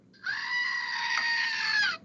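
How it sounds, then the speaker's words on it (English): A goat lets out one long, loud, wavering bleat lasting nearly two seconds, heard close and alone over a faint low background. "It's just actual Goat."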